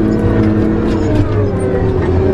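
The diesel engine of a Tigercat skidder drones loud and close at wide-open throttle, a steady, heavy roar with a constant low rumble throughout.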